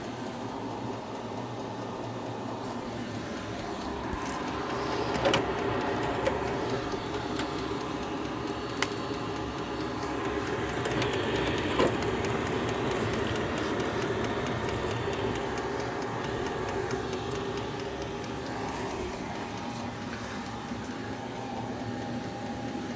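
A Chinese diesel heater from eBay runs on its top level 5 in a garage, giving a steady, fairly quiet whirring blower hum with faint clicks and rattles scattered through it.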